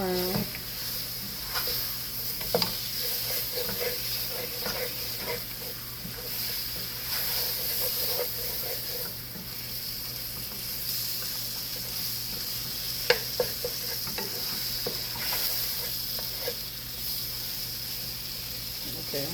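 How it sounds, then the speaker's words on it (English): Flour cooks in a little oil while being stirred, giving a steady soft sizzle with scattered scraping clicks from the utensil, close and continuous. "I'm just going to cook that flour just a little bit. Right down that little oil."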